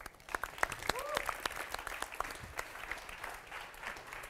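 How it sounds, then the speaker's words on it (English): An audience applauds to welcome a guest speaker on stage: a steady wash of many hands clapping, moderately distant and fairly soft, with a few sharper individual claps near the start. "please give a warm round of applause for our guest, Mr. Wörner."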